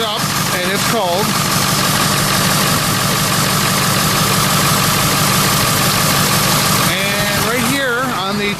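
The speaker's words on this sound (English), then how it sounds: "Started it up and it's cold." Cold 1999 Ford F450 7.3L diesel engine idling in a steady, loud, rumbling drone, with brief voices talking near the start and end over it.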